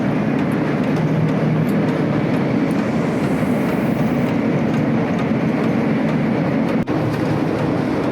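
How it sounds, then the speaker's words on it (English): A steady loud rumble of a train rolling along the rails, with constant rattling and a faint clack near the end. "When I'm in the train, it's really nice."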